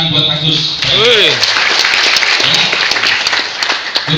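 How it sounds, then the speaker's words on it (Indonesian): An audience breaks into dense, loud applause for a high schooler named Agus, steady clapping filling the space while a voice talks over it. "tepuk tangan buat Agus"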